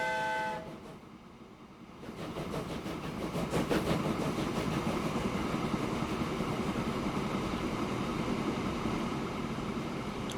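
Train running in the video game Transport Fever 2: after a brief horn-like tonal opening, a steady loud rumble of rolling wagons with clickety-clack rhythm continues throughout, alone without talk.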